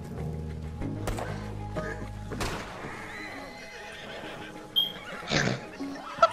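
Horse in Red Dead Redemption 2 neighing loudly and close, a long whinny over game sounds with hoof clops, followed by shorter snorting calls.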